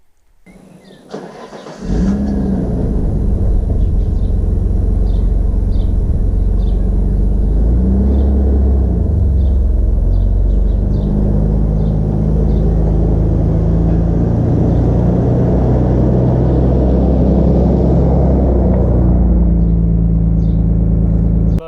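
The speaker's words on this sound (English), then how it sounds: "Setting off in the original Nissan Skyline GT-R Nismo." A 1990 Nissan R32 Skyline GT-R Nismo starts up with a short burst, then its engine drones loudly and steadily from inside the car as it pulls away and drives, with rising and falling revs.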